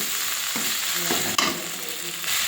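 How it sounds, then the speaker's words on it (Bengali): A paste of ginger, cumin and coriander with chili and turmeric powder frying in a pan, a loud steady sizzle broken by a few scraping stirs and one sharp utensil knock midway. "এবারে মশলাটা ভালো করে কষিয়ে নেব"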